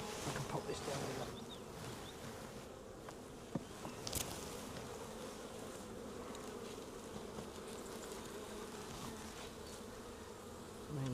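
A dense swarm of honeybees hums and buzzes around an open hive during an inspection, a steady close drone with individual bees zipping past the microphone and occasional handling knocks.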